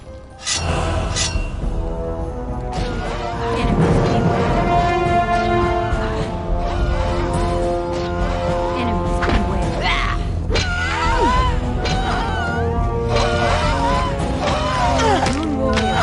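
Close combat with a fire elemental in Spellforce: clashing metallic hits, crackles and groans pile up continuously over a game music bed, loud and dense throughout.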